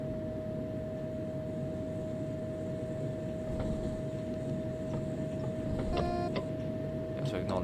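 A DB BR 628 diesel railcar engine in Train Sim World 4 drones steadily with a vacuum-like whir and a sustained whine, joined near the end by brief beeping tones.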